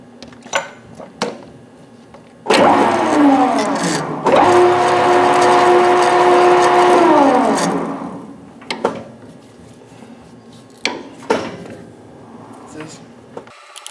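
A metal lathe spins up and runs steadily for about five seconds while a die cuts a thread on the workpiece, a loud motor whine with rising and falling pitch, surrounded by clanks and knocks of tooling before and after.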